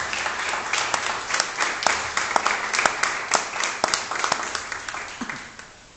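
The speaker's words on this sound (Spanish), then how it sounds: "den un aplauso fuerte al Señor" A church congregation claps loudly for several seconds, dense overlapping hand claps with audible individual slaps, fading out at the end.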